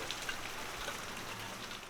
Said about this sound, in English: Rain in the desert.